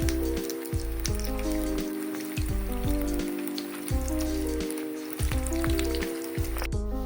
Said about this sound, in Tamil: எண்ணெய் காஞ்சிடுது. இப்போ உருண்டையை போட்டுக்குவோம்.